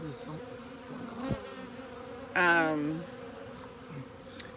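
Honey bees buzz steadily around the small entrance of a new hive, a continuous close drone with a brief louder burst of one passing bee midway and faint knocks.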